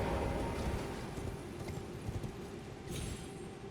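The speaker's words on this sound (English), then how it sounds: "Horse." Horse hooves gallop in Elden Ring, a rapid, steady clip-clop rhythm over soft ground with faint ambient noise, heard alone with no speech.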